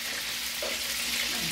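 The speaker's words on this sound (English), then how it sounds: "So our meatballs are frying up nice." Meatballs fry in a pan with a close, continuous sizzle and crackle, steady throughout the short moment, with no voices.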